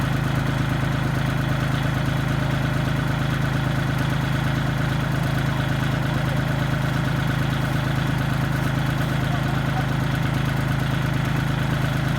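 A Kubota L3608 tractor engine idles steadily and low at close range with a constant rumble and no change in pitch; no voices are heard.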